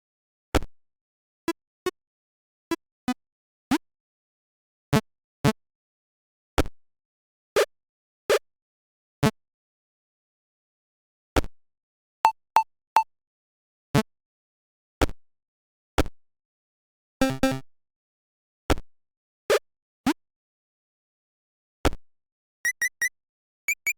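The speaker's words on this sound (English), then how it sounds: "these sounds, they're a little too 8-bit-ish to me" A series of short electronic blips and bloops, dozens of separate chiptune-style 8-bit game sound effects generated with JSFXer, played one after another with brief silences between them.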